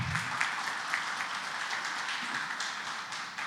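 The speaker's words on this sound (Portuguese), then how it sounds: "Palmas para o time." A church congregation at a discipleship gathering claps for the team, a soft, distant and steady patter of applause that carries on for a few seconds.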